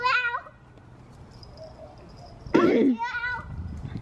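A house cat meows close by, a short tonal call at the start and a louder, more urgent yowl partway through, set among a voice and chatter in a home.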